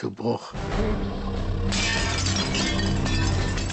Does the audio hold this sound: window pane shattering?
yes